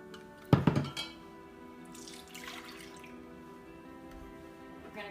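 A cup of Jersey cow milk is poured, opening with a sharp clatter of the container, then a soft, fairly quiet liquid pour that trails off, with no talking.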